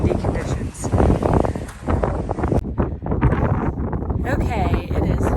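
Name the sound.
strong wind on a mountain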